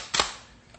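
A rifle fires once in an old-time radio drama about a bear hunt: a single sharp crack followed by a fading tail, then quiet.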